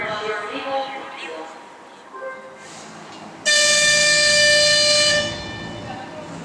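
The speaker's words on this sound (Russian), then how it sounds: "Скорый поезд номер 197 Кисловодск-Иркутск отправляется с третьего пути" A ChS8 electric locomotive hauling the fast passenger train No. 197 from Kislovodsk to Irkutsk departs a station, sounding one long, loud horn blast after quieter station noise and distant tones.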